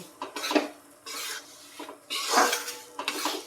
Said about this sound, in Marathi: याच्यामध्ये हे खोबरं याच्या याच्यासोबतच भाजून घेऊया